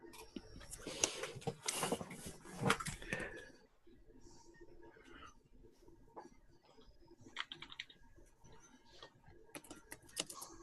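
Rapid keyboard typing in bursts, with clustered clicks loudest in the first few seconds and then lighter, scattered taps continuing at a quieter level through the rest.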